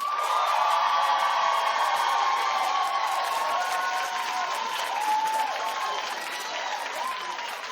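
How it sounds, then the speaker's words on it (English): A studio audience claps and cheers at a daytime talk show, a dense, sustained wave of applause with crowd noise that fades gradually. "Clap if you say don't do the story."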